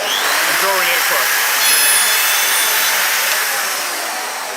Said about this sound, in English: it's as simple as starting the router